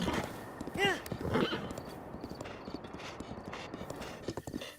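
Hooves of a horse in The Legend of Zelda: Breath of the Wild tap at a walking pace under game ambience, with a brief whinny early on and someone talking over it.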